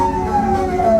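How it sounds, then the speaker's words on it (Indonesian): An ambulance siren wails steadily and loudly on a street in Malaysia, a continuous tone drifting slightly in pitch with traffic rumble underneath. "seperti apa respon rakyat Malaysia ketika ada sirine ambulans"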